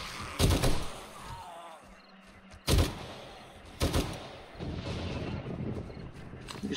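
Loud, booming gunshots from a zombie survival video game ring out in a few separate bursts, with sharp blasts and a rattle of rapid fire over low background game ambience.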